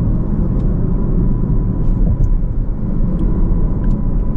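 A Skoda Octavia L&K top model in sports mode accelerates to overtake on a highway, with a steady, loud, low engine and road rumble heard from inside the cabin and no talk.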